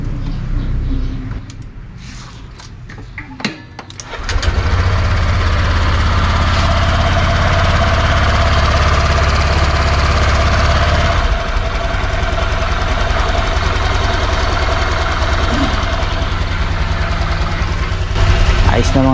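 Motorcycle engine running after a new C'Works spark plug is fitted: a few clicks, then a loud steady idle with a rough, throbbing chug that holds for the rest of the stretch, close by.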